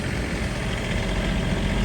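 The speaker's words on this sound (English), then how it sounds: "The tractor's warming up." A tractor engine idles steadily while warming up before snow removal, a continuous close low rumble with no pauses or talk.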